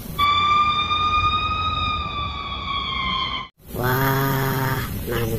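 A toy ambulance siren wails in a steady electronic tone, loud and close, cutting out briefly before a harsher, buzzier siren pattern resumes.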